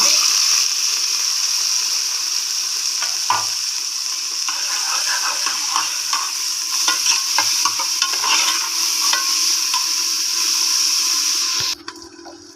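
Onions frying and being stirred in a hot pan, giving a continuous loud sizzle with scraping stir strokes layered on top that run almost to the end.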